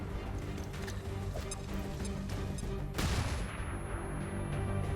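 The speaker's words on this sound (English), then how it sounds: "we'll throw a flashbang" A flashbang grenade goes off in XCOM 2 Long War 2 as one sharp, loud burst partway through, over steady, busy game background sound.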